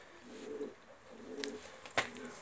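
Pigeons give a few soft, low coos close by, with a sharp click near the end and no talking.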